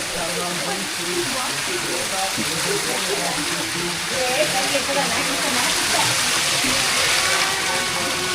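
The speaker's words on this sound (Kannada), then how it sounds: "ಪರ್ವತದಿಂದ ನೀರು ಕೆಳಗಡೆ ಬರ್ತಾ ಇದೆ" Mountain water pours down at Papanasam in Tirumala, a steady full rush like a stream or falls, close and unbroken throughout, with voices mixed in beneath the flow.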